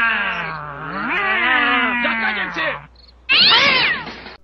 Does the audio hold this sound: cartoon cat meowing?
yes